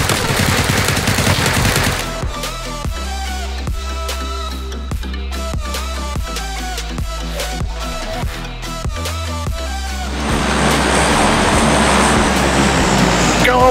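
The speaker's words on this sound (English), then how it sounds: "Go away, plane." Video game combat in which an aircraft roars overhead while sustained gunfire and machine-gun bursts crackle loudly and continuously, with sharp shots in the middle and a swelling engine wash toward the end, under occasional speech.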